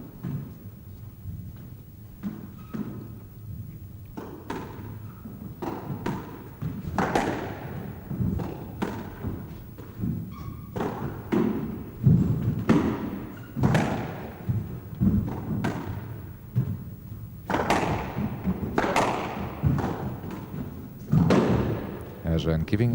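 Squash ball shots and volleys during a match: sharp thuds and cracks of the ball striking racket and walls in an irregular rally rhythm, heard under a commentator's voice.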